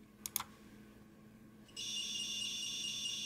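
A steady high-pitched active buzzer tone, driven by a KT-315 transistor, starts after two short clicks and sounds continuously, loud and close, with no talking.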